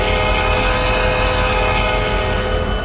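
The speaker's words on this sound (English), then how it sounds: "K5LAs, it sounded literally this." A loud K5LA train horn in a video game blasts a steady multi-tone chord without a break for the whole stretch, with no voices.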